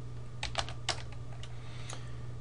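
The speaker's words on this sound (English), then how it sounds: "So we're going to type sudo dd for data dump, or disk dump rather" Quiet keystrokes on a computer keyboard as a Linux terminal command is typed, a handful of irregular taps over a steady low hum, with no talk.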